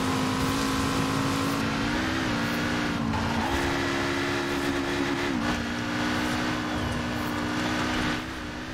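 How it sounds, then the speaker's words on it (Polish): A LEGO car's plastic turbocharger whines in Forza Horizon 4, a steady high tone riding over a constant buzzing engine drone that rises and dips in pitch a few times while driving. "Słychać nawet plastikową turbosprężarkę"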